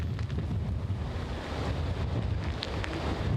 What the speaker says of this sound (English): these wind gusts that feel like they're just pushing you over